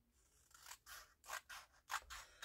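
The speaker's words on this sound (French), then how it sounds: "je vais bien pouvoir le découper à la bonne dimension" Scissors snip through paper being cut to size for a garland template, giving about five crisp, close cuts in an uneven rhythm with short pauses between them.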